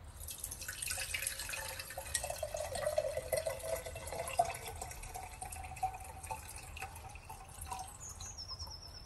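A homemade herbal fat-burning drink is strained, its liquid trickling and dripping steadily at close range for several seconds, quiet and continuous with faint clinks, no voices.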